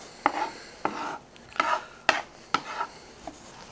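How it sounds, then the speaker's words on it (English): A knife chops garlic on a board in a field-to-plate cooking session, with about six sharp, spaced knocks and short scraping sounds between them, close and clear, no talking. "We kind of want to get this chopped up because you don't want no big chunk of garlic in your sauce at all."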